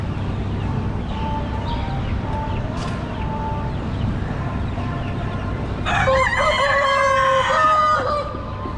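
Chickens cluck in a busy farmyard, with a rooster crowing loudly and nearby partway through, over a constant background hum of other birds.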